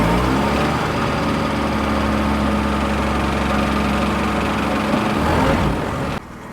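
An MG F car engine runs steadily for about six seconds, a loud, even mid-low drone with a faint vibration, then cuts out abruptly near the end, leaving quieter background.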